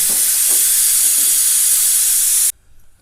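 A loud, continuous hiss of escaping steam from a pressure cooker whistle in a kitchen that cuts off abruptly, leaving a quiet room.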